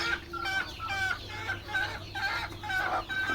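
Several birds cluck and chatter repeatedly nearby on a poultry farm, a busy overlapping mix of short calls from chickens and guinea fowl drinking water.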